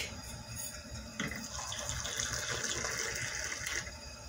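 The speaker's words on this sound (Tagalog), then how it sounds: "At lagyan natin ng mainit na tubig." Hot water is poured into Turkish coffee, a steady splashing fill that runs for about four seconds at moderate, close-up level with no talking.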